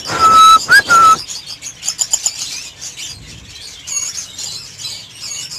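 Lovebirds in breeding cages giving loud whistling calls up close, then scattered chirps and squawks with some wing fluttering, quieter and more spread out.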